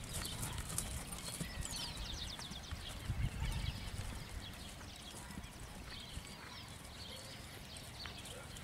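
Tame chestnut ranch horse used for rural field work, about 500 kilos, hooves clip-clopping at a walk, faint and steady among outdoor background noise with a few distant bird calls.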